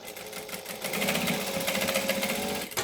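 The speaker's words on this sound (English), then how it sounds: "So now I'm going to pull both these back, and I'm going to top stitch." Sewing machine top stitching a fabric bag near a D-ring, a steady close mechanical whir with rapid needle rhythm running for a few seconds, then stopping, no talking.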